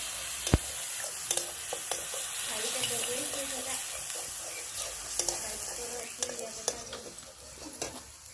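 Onion and ground spice paste sizzle steadily in hot oil, a continuous close frying hiss broken by scattered clicks and scrapes of stirring.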